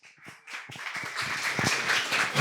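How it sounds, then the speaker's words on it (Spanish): An audience applauds a faculty dean being introduced at an inaugural university lecture, the clapping starting sparse and swelling into a steady, dense round of many hands. "Fuerte el aplauso,"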